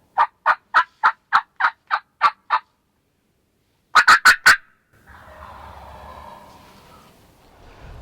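Rapid clucking yelps from a turkey call, a run of about nine evenly spaced notes, then after a pause a quick burst of four more, followed by a faint low rumble, clear and close in an open field.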